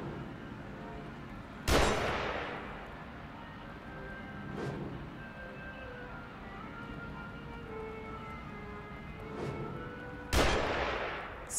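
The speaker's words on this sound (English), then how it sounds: "someone's shooting at me" Gunfire in The Evil Within game: a few sharp, loud shots ring out several seconds apart, two near and strong, others fainter, over a steady background drone.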